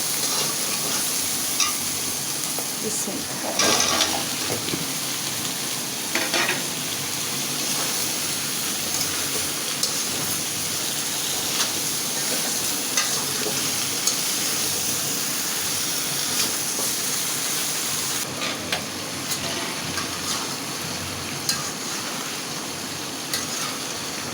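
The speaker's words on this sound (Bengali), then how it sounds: "আমার মশলাটা কিন্তু সুন্দর করে ভাজা ভাজা করে কষানো হয়ে গেছে" Spice paste fries in a pan for bottle gourd prawn curry, a continuous close sizzle and hiss with occasional clicks and scrapes of stirring running throughout.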